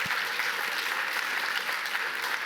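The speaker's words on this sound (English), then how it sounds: "Look, that's worth an applause." A crowd claps steadily for a couple of seconds, a dense, even patter of applause from many hands.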